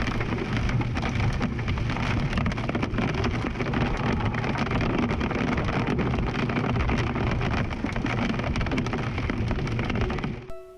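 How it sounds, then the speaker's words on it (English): Large wet hail and heavy rain pounding steadily on a vehicle during a storm chase, a dense loud roar throughout with no talking. "ended up getting caught in some pretty big but luckily wet hail"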